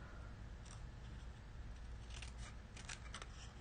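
Scissors trimming a paper note card, a few quick crisp snips close by over a faint, steady background hiss.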